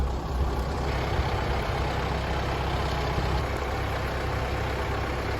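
A steady, low Kubota tractor engine rumble idles continuously throughout, with a constant drone and no speech over it.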